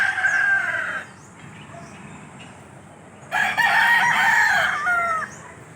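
Roosters crow, including jungle fowl among gamecocks tethered outdoors, two loud near cock-a-doodle-doo calls separated by a quiet pause, with fainter crowing from other birds in the background.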